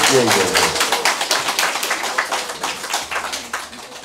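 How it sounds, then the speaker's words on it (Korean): An audience at a political school event in Daegu applauds, dense at first and then thinning into scattered, individual claps that fade toward the end, with a brief voice at the start. "여러분 박수 한번 부탁드리겠습니다"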